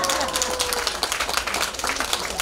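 An audience claps together at an outdoor festival stage show, a dense, steady patter of many hands that carries through the whole moment without pause.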